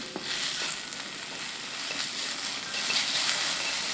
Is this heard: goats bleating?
no